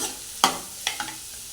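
Dried fish thokku stirred in a frying pan: three or four quick sharp scrapes and clinks of a spatula over a low steady sizzle, close and brief.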